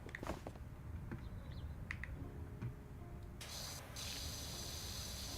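Pressure washer spraying a roof in a cozy cleaning video game: a steady broad hiss of water jet running continuously, brightening and intensifying partway through, with faint small clicks beneath.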